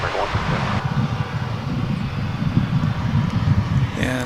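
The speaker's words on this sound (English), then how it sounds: "Looks like that was another arrival on what is normally the takeoff runway here." A passenger airplane arriving on a runway at DFW airport in bright morning sun, heard as a steady, broad low engine roar with wind noise, holding at moderate loudness throughout with no voices.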